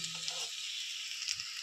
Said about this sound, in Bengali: এবার আমি আর 1 পিঠ ভালোভাবে ভেজে নিব